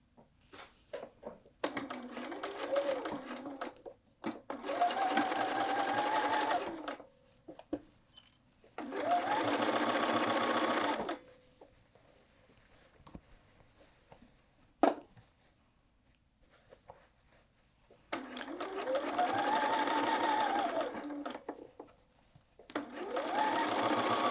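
Sewing machine stitching the hood onto a quilted jacket, into the point of the hood, running in several bursts of steady whirring with quiet pauses and handling noise between them.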